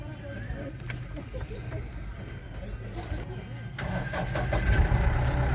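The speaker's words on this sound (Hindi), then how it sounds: "देखिए गाड़ी स्टार्ट हो गई है" A car engine is started with the key and catches. It settles into a steady mid-pitched idle that grows slightly louder near the end, with people talking over it.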